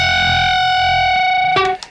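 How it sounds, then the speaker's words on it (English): Heavily distorted electric guitar playing a big string bend with a half-step note on the next string, the two pitches grinding against each other in a loud sustained tone before it cuts off. "A big bend and then doing a half step on the next string underneath it"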